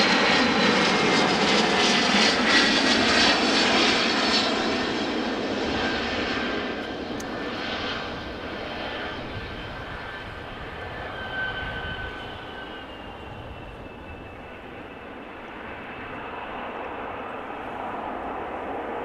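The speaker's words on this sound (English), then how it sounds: "So Bombardier Challenger 350, it is 7 years old, had its first flight in January 2016" A Bombardier Challenger 350 business jet arriving at Amsterdam Schiphol from Ibiza gives off a loud, broad engine roar that swells early and then eases into a steadier, slowly fading rumble with a faint whine, and no talk.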